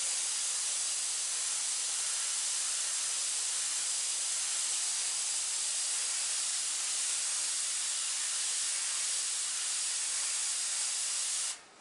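An aerosol can sprays black paint over a black base coat, a steady, close, unbroken hiss that runs for about eleven seconds before cutting off at the end.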